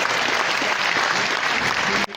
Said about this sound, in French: Merci beaucoup, on va applaudir Alice.